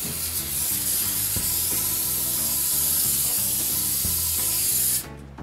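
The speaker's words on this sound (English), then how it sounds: "Before screwing the metal sheets on the tables, I spray metal sealant under the sheet." An aerosol can sprays metal sealant under a metal sheet on a wooden jointer table, giving a steady loud hiss that runs continuously for about five seconds and then cuts off abruptly.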